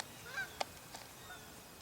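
Geese flying overhead outdoors on a cold October day give a few faint, distant honks, short calls spaced irregularly over a quiet background.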